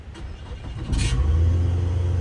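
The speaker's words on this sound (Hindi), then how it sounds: "तो अब इसको हम गाड़ी को स्टार्ट करते हैं और देखते हैं ब्रेक पर पाँव रख के" A 2013 Nissan Altima with an ECM communication fault (code U1000) cranks briefly, then its engine catches and settles into a loud, steady low idle, with no voices.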